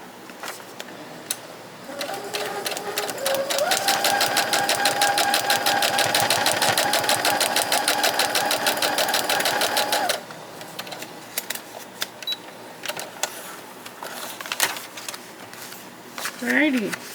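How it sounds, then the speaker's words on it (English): A sewing machine stitches a paper-pieced Halloween coaster in one steady, rapid run of about eight seconds, then stops, followed by quieter handling clicks. "And then sew from edge to edge."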